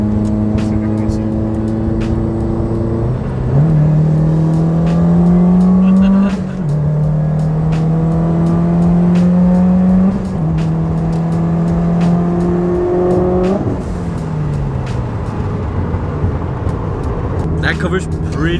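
A modified Subaru WRX drives past with a strong engine note that climbs and shifts through several gears. The revving rises and falls loudly across the pass, with engine-bay noise from another Subaru WRX STI and some speech underneath.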